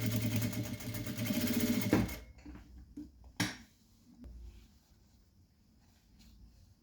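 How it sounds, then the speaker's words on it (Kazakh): Sewing machine stitching a school skirt, a loud fast whirring run for about two seconds that stops abruptly, followed by a quiet workspace with a few soft clicks and fabric handling noises. "Енді осының жоғарғы бөлігіні кішкене бүйтіп тігіп алатын боламыз."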